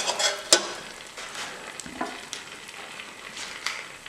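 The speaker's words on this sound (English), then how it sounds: "Give that a good stir around. You want to get that nice nutty flavour or nuttiness going with the almond powder." Almond powder frying in butter in a pan while being stirred: a steady close sizzle with scraping strokes of the spoon and one sharp clink against the pan, and no talking.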